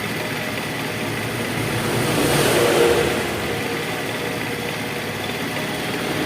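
A Honda Vario scooter with a misfiring, stalling fault, its engine droning steadily and swelling briefly as the throttle opens midway, then settling back to a steady hum.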